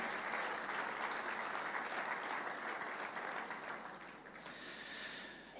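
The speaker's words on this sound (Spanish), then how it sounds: "Fuerte ese aplauso de alabanza al Señor" Steady applause of praise rises from a church congregation, many hands clapping in a continuous dense roar that holds for several seconds and thins slightly toward the end.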